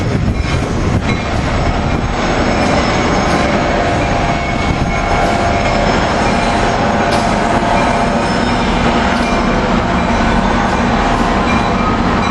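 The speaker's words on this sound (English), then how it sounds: "GP40 engine 4211 leading the NJT train" NJ Transit train led by GP40 locomotive 4211 passing Cornwells Heights station at rush hour, a loud continuous roar of rolling wheels and rail clatter with faint squeal, close and steady throughout.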